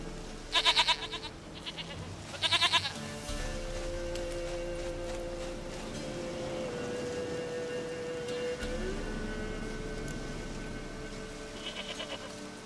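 A goat in the video game The Witcher 3 bleats twice in short quavering calls near the start, over soft game ambience with faint rain-like patter and low tones that continue after.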